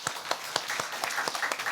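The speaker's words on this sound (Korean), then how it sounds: "네, 박수해 주시기 바랍니다." Church congregation at a Korean Presbyterian Sunday service applauding new members, a brief burst of brisk hand claps in an uneven rhythm, close and lively.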